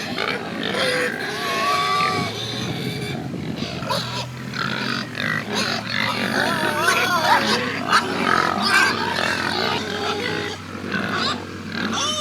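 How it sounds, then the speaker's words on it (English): Gloucester Old Spots heritage breed pigs on a regenerative farm, grunting and squealing continuously at close range, with several animals overlapping in a busy, noisy pen. "We used pigs that are heritage breeds, so Gloucester Old Spots,"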